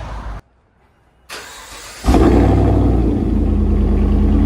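A 5.3-litre V8 Chevy Suburban engine starts after a brief silence and settles into a steady, loud low exhaust rumble heard from inside the cabin.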